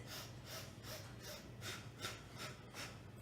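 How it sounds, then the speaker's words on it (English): Quick, forceful breaths through the nose in a steady rhythm, short puffs repeating about every third of a second, close and alone. "we breathe in the nose, 4 quick inhales, and then we breathe out the nose, 4 quick exhales"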